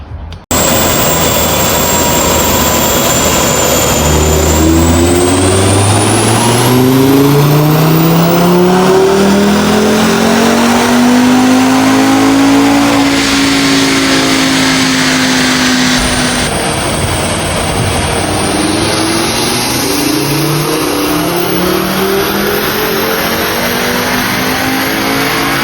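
Audi RS3 engine on a dyno, loud and close, revving up through the gears in long rising pulls with a high whine, then easing back to a lower steady drone.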